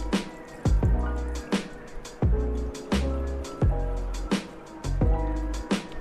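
Water being stirred into Tang mango drink mix in a glass, rhythmic repeated swishing and clinking strokes about every half second, close and fairly loud.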